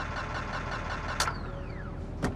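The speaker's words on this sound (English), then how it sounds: "The engine is fucking shot, man." A broken-down car engine in GTA 5 runs with a steady, rough mid-range rumble, the pulsing texture of a struggling motor, interrupted by two brief sharp noises.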